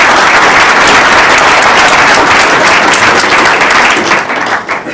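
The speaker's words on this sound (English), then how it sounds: "a round of applause" Staff meeting audience breaks into sustained applause, a dense wash of many hands clapping loudly throughout before thinning slightly at the very end.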